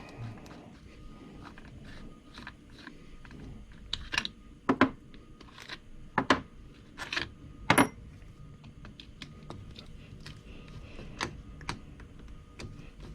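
Bolts come out of the nose piece of a Matco 1/2-inch air impact wrench, heard as quiet scattered metallic clicks and small taps from hand tools at close range, irregular and sparse.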